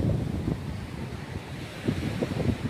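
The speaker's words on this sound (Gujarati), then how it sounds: "જુઓ મોજા જોવો ને એનો અવાજ તો જુઓ તમે" Sea waves washing onto a sunny shore with boats moored nearby, a steady broadband rush with gentle surges and wind buffeting the microphone throughout, no talk.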